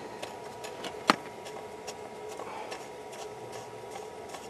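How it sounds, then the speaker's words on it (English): A bolt being turned in on the transmission mount of a 2001 Buick Park Avenue, heard as faint, fast, regular ticking clicks with one sharper click, over a steady background hum. "watching somebody turn a bolt in"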